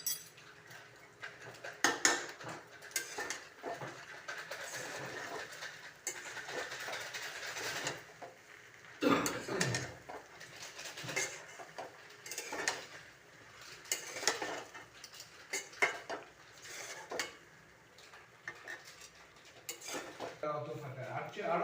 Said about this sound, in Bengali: দিয়ে আমি আবার এটা মিশিয়ে নেব